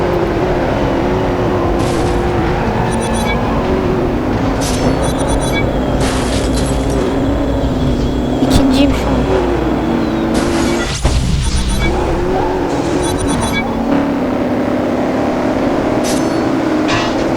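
An Audi in a racing video game at full throttle, with a loud, continuous engine roar and repeated sharp bursts and crashes layered over it.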